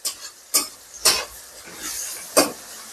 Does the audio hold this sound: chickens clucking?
no